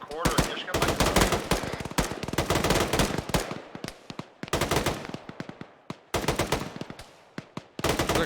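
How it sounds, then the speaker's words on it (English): Machine gun fire in the military video game ArmA 3 crackles in loud, rapid bursts, long strings of shots split by brief pauses, close and dominant throughout. "Looks like a single machine gunner."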